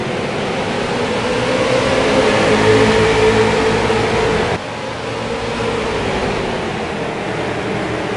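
Race cars accelerating together onto the green flag at a restart in a late-model stock car series race at Thompson, a loud, sustained engine roar that swells, then drops abruptly and continues steady.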